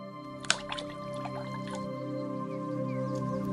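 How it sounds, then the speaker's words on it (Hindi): Cartoon water sounds as a king drinks from a pond: a sharp drip and a few wet splashes and squishes, then soft liquid gurgling over a steady background hum. "चलो जल्दी से चलकर पानी पीता हूँ।"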